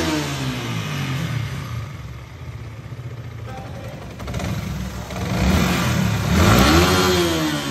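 A Yamaha R15 motorcycle engine, with its tappets freshly adjusted, runs close by. It idles steadily and then revs up in rising, swelling surges toward the end.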